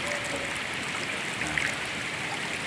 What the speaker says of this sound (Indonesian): Airnya cukup deras. Air keruh bercampur dengan lumpur